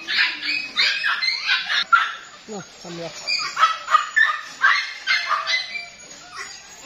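Lhasa and American Eskimo puppies yap in a run of short, high barks close by, with a person talking between them during a rabies vaccination session.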